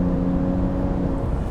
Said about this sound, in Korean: 가속 페달을 쭉 밟고 차가 달려나가는 환경, 엔진 소리 들리시나요?